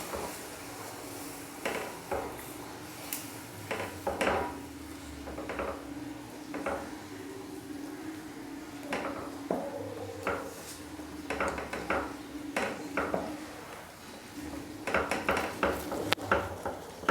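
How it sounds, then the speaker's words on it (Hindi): Roasted flour is stirred into hot milk in a pan while making vrat burfi, giving a run of irregular scraping clicks and knocks of a utensil against the pan, with moderate level and no talk. "इसको इस तरह से चलाते हुए पका लेंगे"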